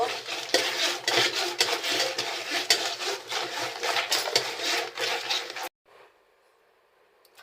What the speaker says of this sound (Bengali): মাছগুলো আমি ভালো করে ঘুরিয়ে কষে ধুয়ে নেব।